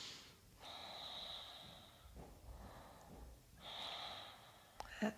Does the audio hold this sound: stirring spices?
no